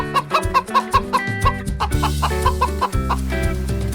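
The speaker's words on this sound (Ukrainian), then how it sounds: "Вийшла курочка на грядку, кличе діток на зарядку." Hen clucking in short repeated bursts, loud and close, set against a musical backing of a children's song.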